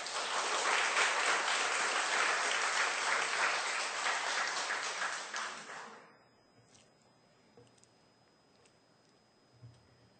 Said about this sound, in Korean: 여러분, 손 드신 분들을 위해서 격려 박수 부탁드리겠습니다.